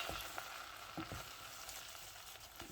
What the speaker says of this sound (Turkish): Önce birazcık unumu kavuracağım.